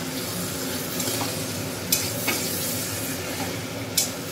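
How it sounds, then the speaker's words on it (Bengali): Chopped tomato goes into a frying masala for a country chicken and potato curry, producing a close, steady sizzle as it is stirred, with a few sharp utensil taps against the pan. "এই সময়টা আমি টমেটো কুচিটা দিয়ে দিচ্ছি।"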